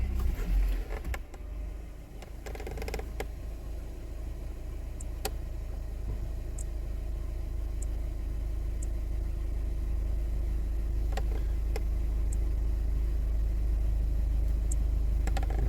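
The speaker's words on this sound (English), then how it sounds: "Start the car up." A 2015 Honda Civic Hybrid that has no AC operation starts and then idles: a low, steady engine drone that holds evenly throughout, with occasional faint ticks and clicks.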